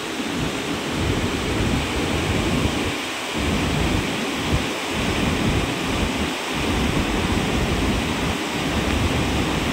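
A flooded river rushes in a loud, continuous roar with deep surging rumbles rising and falling underneath.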